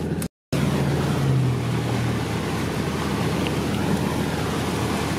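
A steady rushing, churning wash of water with a low engine hum, like a car ploughing through deep water, continuous after a brief cut.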